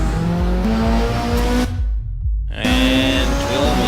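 Race car engine in a racing game, on the Zolder circuit, climbing hard through gears as it powers out of a slow corner. The loud engine note rises and shifts, with a brief drop near the middle before it surges again.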